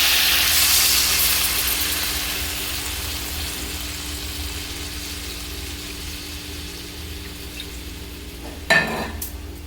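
A pan of bottle gourd stems and eggplant simmers with a steady soft sizzle and hiss, then water poured in gives a short sharp splash and crackle near the end.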